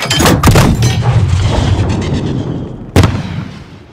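Explosions in a Modern Warfare video game: several heavy booms at the start rolling into a long rumbling decay, then another sharp blast near the end, loud and close.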